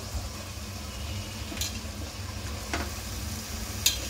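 Aubergine, drumstick pods and flat beans sizzle faintly in a pan during a Makar Sankranti bhaji, a steady low frying hiss broken by a few soft clinks of stirring.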